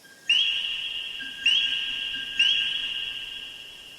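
Loud, high-pitched calls of coquí frogs ring out three times in an even rhythm, each a sharp whistle-like note that starts abruptly and holds, close and clear over a quiet background.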